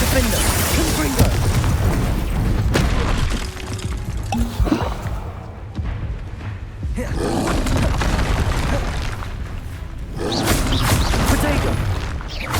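Glacius and Confringo spells cast in Hogwarts Legacy, heavy booming blasts and roaring impacts in loud waves through combat noise, with a brief quieter lull between the bursts.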